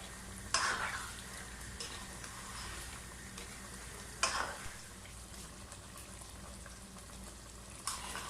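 Chicken for a smoky chicken curry frying over high heat in a pan, a continuous soft sizzle with a few sharp scraping stirs of a utensil against the pan.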